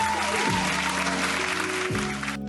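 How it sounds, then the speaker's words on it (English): Dense applause from many hands claps steadily at close range for the whole moment, then thins abruptly at the very end. "You are deserving of these claps."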